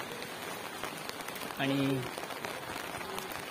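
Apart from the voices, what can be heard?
rain falling at the seashore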